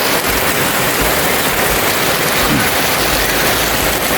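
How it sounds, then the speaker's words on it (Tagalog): Heavy typhoon rain pouring nonstop, a dense loud roar of water with a faint low rumble beneath, close and unbroken for the whole stretch, without any voices. "So walang tigil ang ulan simula kahapon hanggang ngayon"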